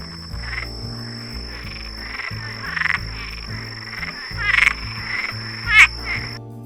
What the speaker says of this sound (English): frogs make a special sound when they're trying to breed